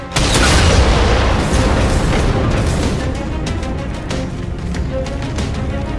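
A railgun fires in the Halo game Reclaimer, one loud booming blast with a long rumbling decay that fades over several seconds, no voices.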